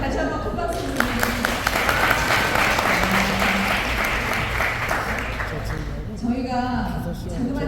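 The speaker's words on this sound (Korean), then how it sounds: "여러분 다시 한번 큰 박수 부탁드립니다" A big round of applause from guests at a book launch celebration for an author's hundredth book, sustained dense clapping from a crowd, with a voice talking over it near the start and end.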